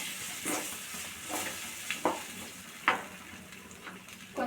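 A spoon scrapes and stirs masala in a frying pan, with soft sizzling underneath and a few sharper clicks against the metal.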